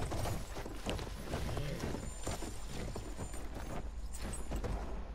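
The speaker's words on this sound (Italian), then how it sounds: "Che versi che fa sto cavallo?" Horse from Battlefield 1 clip-clopping with steady hoof beats throughout, loud and close amid game noise, with someone talking over it.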